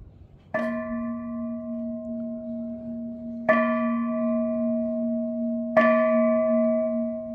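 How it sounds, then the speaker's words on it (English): A bell at a pagoda in Kanchanaburi, Thailand, is struck three times at spaced intervals, each ring clear and sustained, its resonant tone lingering until the next strike. "That little bell that you heard before, give it a ring."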